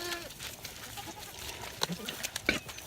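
A pet goat named Beatrice bleats in a farmyard at breakfast time, a couple of short, sharp calls near the end amid light background clatter and faint voices.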